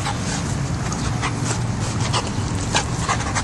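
Dogs pant rapidly and steadily up close on a hot day, a continuous breathy rhythm with occasional faint whimpers.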